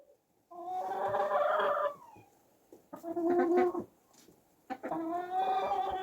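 A hen on a home flock in winter clucks and squawks in three drawn-out bursts separated by short pauses, close and moderately loud, with no voices.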